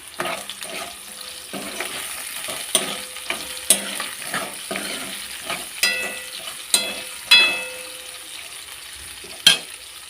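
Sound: chopped onions frying in pan for carrot curry

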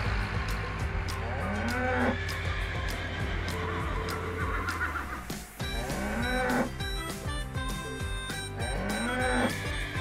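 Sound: farm animals, cattle mooing

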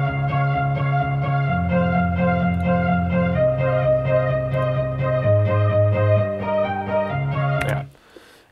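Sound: electronic music breakdown with sub bass and strings

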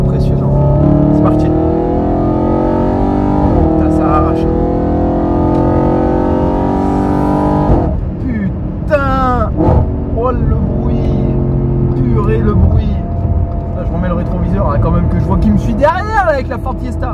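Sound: Audi RS4 engine revving loudly

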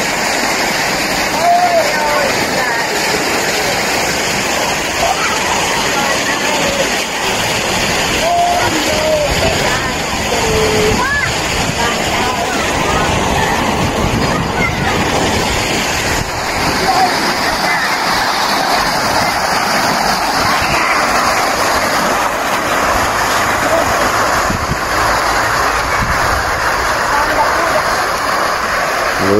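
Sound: babbling water from fountains

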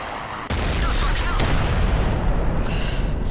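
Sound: tank artillery gun firing in World of Tanks video game

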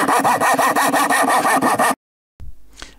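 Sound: trimming elm wood base with a knife

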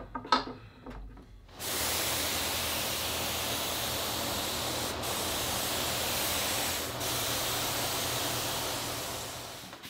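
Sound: HVLP paint sprayer spraying

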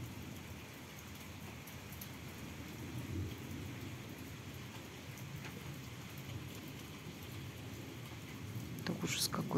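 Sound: thunderstorm with rain and thunder

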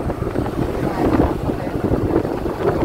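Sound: strong wind crossing the Cổ Chiên bridge

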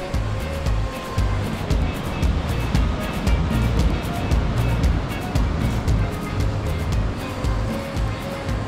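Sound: sea waves breaking below a cliffside coastal walkway

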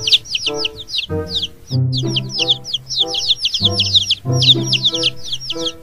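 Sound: toy baby chick chirping

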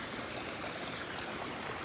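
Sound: water flowing through a full irrigation channel after heavy rain

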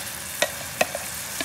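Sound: mango pulp stirred and sizzling in hot ghee

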